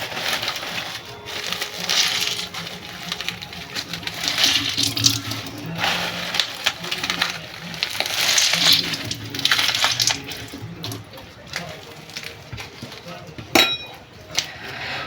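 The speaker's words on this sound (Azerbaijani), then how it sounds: "İstiyotu mütləq çəkməliyəm, çünki buna da istiyot vuracağım." Black pepper is ground by hand for a Korean-style salad, making repeated gritty crunching bursts in an uneven rhythm. A sharp clink sounds near the end.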